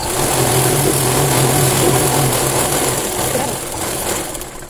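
Sewing machine stitching a Punjabi dress bottom, a fast, steady whirring run of stitches up close that eases slightly toward the end.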